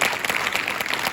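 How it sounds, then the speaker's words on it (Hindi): An audience claps to welcome a teacher at a farewell gathering, with a brief, dense burst of continuous applause. "मैं चाहता हूं इस उपलब्धि में सर के लिए आप तालियों के साथ सर का स्वागत करें।"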